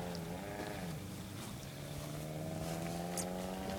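A vehicle engine passes on a road during a lightning storm in Dublin, Indiana, a continuous droning hum with rising pitch, steady and moderately loud against rainy background noise.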